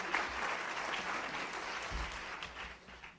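Audience at a National Press Club luncheon applauding, a steady wash of clapping at moderate distance that holds for about three seconds before tapering off slightly.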